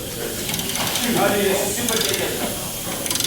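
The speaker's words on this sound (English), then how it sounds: "We're going to remove that pinch bolt, and we're going to do both sides at the same time." A ratchet works loose the pinch bolt on a Mazda 3 lower ball joint, a near continuous mechanical clicking and hiss running through the whole stretch with a low voice under it.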